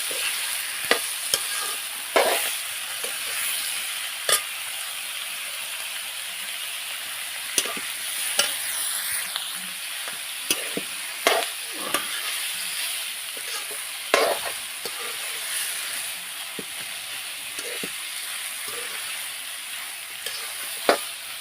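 Capsicum (bell pepper) being stir-fried in a pan, with a steady sizzle under frequent sharp scraping and clacking of a spatula at an irregular rhythm, close and fairly loud throughout.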